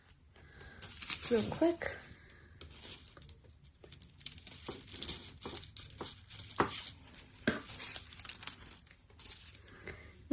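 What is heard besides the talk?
cutting material to size for printmaking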